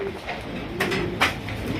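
Pigeons cooing in a crowded wholesale pigeon market, low murmuring coos with a couple of sharper sounds mixed in, fairly near, with no speech.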